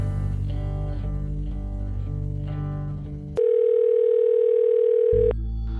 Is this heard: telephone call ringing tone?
yes